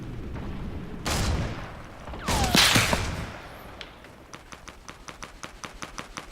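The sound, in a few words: gunfire in the video game Fortnite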